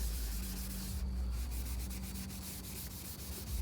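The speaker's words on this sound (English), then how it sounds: "what you're doing is it's like a sandpaper" Sandpaper scrubs a plastic car headlight lens in circular motions, a steady, close, rasping rub that continues throughout.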